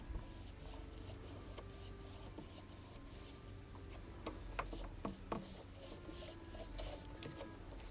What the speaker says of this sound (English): Give it a nice coat of Mod Podge.